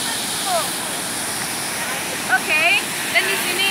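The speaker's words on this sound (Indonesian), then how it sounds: "kali ini kita ada di daerah PLTA Asahan, tepatnya itu di air terjun Cipendo." Cipendo waterfall at the Asahan hydropower plant, a steady broad rush of falling water filling the whole clip, with brief faint chirps and short bursts breaking in near the end.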